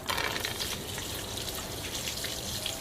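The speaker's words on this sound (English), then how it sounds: "Put the straw into the bottle and tie it like this. Let's see how long it takes to empty the bottle." Water rushes steadily out of a bottle through a straw tied in place, a continuous close gushing and trickling that holds an even level for about three seconds with no talk.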